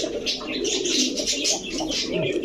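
White-eyed pigeons of the giribaz, coloring and racer kind coo steadily up close, with soft throaty calls overlapping and a few higher chirps throughout.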